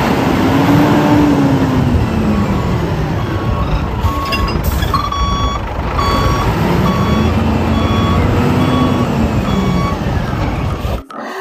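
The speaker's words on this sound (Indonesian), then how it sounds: "Yang ini mobil truk molen." A toy cement mixer truck sounds steady, evenly spaced reversing beeps over a loud continuous electronic engine rumble, close and unbroken until it cuts off at the end.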